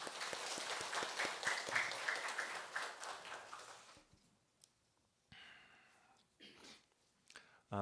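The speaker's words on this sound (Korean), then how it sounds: "다시 한번 박수로 축복하겠습니다" A church congregation applauds during a Sunday worship service, a moderate wash of clapping for about four seconds that fades out, followed by quieter scattered sounds and a brief voice at the end.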